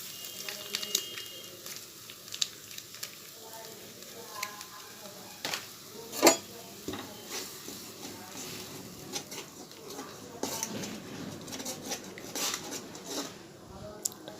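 Spice paste with garam masala and tomato sauce is stirred and fried in a pan for a paneer curry. Close, fairly quiet utensil scrapes and clinks repeat over a soft, continuous sizzle.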